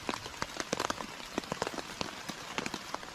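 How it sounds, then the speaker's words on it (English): Rain falling while the sun is out on a mountain hiking trail, with scattered close drops pattering irregularly on a surface over a soft steady hiss. "It just keeps on raining with the sun out."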